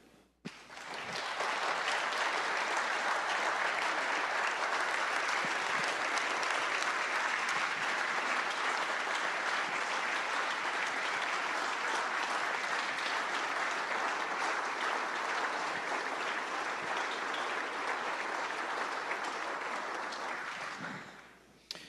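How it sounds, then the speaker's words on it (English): Sustained applause from an audience in a state legislative gallery, steady and full for about twenty seconds before tapering off at the end. "if you will all give Monique a round of applause"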